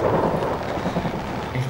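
In the Outlast video game, thunder rumbles low and heavy with rain during a storm, a brief sustained roll with no talking.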